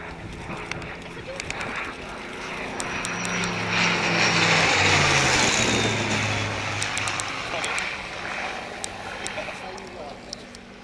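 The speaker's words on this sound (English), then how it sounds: "Lovely sound of the Merlin engine." A Rolls-Royce Merlin piston aircraft engine drones overhead, swelling as the plane passes and fading away, with a steady rumbling roar.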